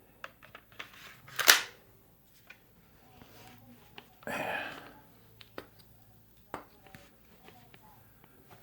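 Two sharp pops from an X-68 CO2 airgun fired through a chronograph, each a short near crack about three seconds apart, with small clicks and handling noises between.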